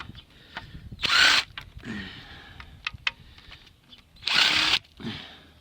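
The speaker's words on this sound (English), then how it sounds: "I can get out with power drill. Oh, impact driver. Here we go. Reverse." An impact driver in reverse whirs in two loud bursts removing bolts from a Toyota 1MZ-FE V6 engine, with small ticks and clatter between them, close by.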